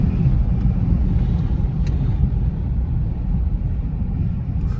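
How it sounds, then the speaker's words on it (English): A Lexus LS430 pulling away under hard acceleration, its engine a steady, loud low rumble that holds for several seconds with no voices. "whenever I accelerate like that, you can smell a little bit of carbon burning off"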